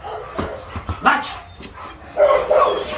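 A Rottweiler barks on command during escort training, giving a few short gruff barks and yips up close, then a louder run of barking toward the end.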